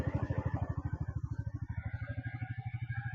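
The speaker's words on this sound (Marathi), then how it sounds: "आज आपण गाडीला कोल्ड स्टार्ट करू." A Royal Enfield motorcycle idles after a cold start, its single-cylinder engine thumping in a steady, even low pulse, close and alone for a few seconds.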